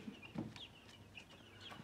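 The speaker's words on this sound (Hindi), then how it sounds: "ये हमारे बड़े मुर्गे ऊपर बैठे हैं" Aseel roosters perched up high cluck softly, with a few short low clucks near the start followed by faint scattered calls over quiet background noise.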